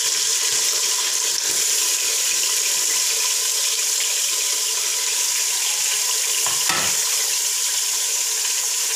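Meat (gosht) goes into a pan for korma and fries with a loud, steady sizzle and crackle, close and continuous, with no talk.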